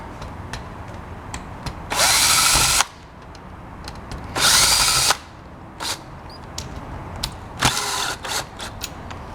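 A DeWalt power drill whirs in three short loud bursts, each under a second, separated by quieter clicks and handling noise from work on a contactor.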